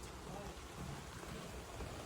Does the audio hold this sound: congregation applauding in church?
no